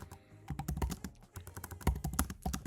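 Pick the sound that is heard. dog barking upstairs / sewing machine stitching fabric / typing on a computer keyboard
typing on a computer keyboard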